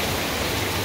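Heavy rain pours down as a dense, steady hiss of noise, loud and close, with nothing else audible over it.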